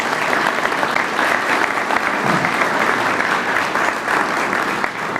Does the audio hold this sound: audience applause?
yes